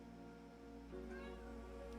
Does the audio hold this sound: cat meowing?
yes